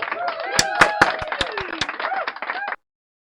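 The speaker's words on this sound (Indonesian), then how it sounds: "Tepuk tangan dulu dong." Around seven or eight sharp, separate hand claps ring out close by, mixed with a voice talking over them, then stop abruptly.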